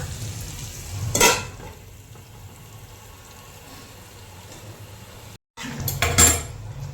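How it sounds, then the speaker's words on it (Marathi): A lid clatters onto a pan of green eggplant on a gas stove, two sharp metallic clanks a few seconds apart over a quiet background hiss. "मी गॅसवर त्याला मी आता झाकून ठेवते."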